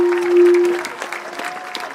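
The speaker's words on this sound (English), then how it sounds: "How about a nice round of applause for the cheerleaders?" A round of applause for the cheerleaders at a live high school football event, clapping from a crowd heard under a brief sustained tone and some faint voices, moderate and steady.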